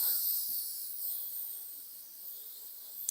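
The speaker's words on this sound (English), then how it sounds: "that's the beauty of airbrushing" An airbrush sprays paint onto a motorcycle helmet with a steady, close, airy hiss that holds for a few seconds and ends in a small click.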